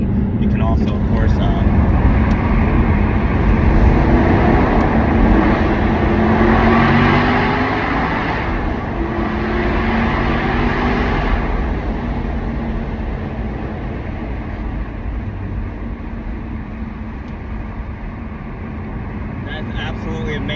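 An Aston Martin Vantage engine pulls hard from inside the car on a ride-along, a loud sustained roar that rises and then eases off over about twenty seconds while a person talks over it.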